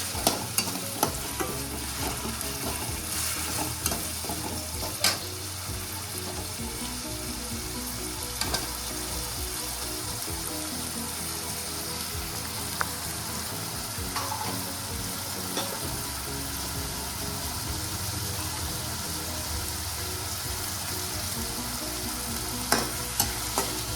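Cooked vegetables heated in a pan and stirred for bansi rava upittu, giving a continuous soft sizzle with frequent scraping and clinking strokes of the spoon, close and steady throughout.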